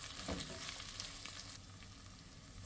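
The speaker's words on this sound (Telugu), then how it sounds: "ఆనియన్స్ని త్వరగా మగ్గుతాయి." Onions frying in a pan with a little salt for gongura pulao give a faint, steady sizzle and crackle, with light stirring scrapes and no talking.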